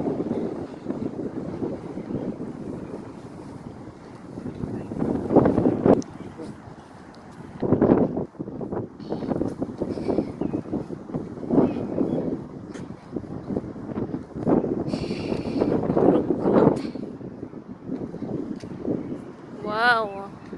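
Strong spring wind blows outdoors and buffets the microphone with rumbling gusts throughout. Several people talk and exclaim over the roar.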